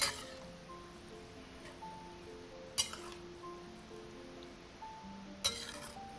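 Pickled Napa cabbage and glass noodles are stir fried in a pan with seafood and fish sauce, with a soft sizzle underneath and a few sharp clinks of a utensil against the pan.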